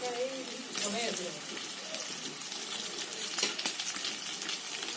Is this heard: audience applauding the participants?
no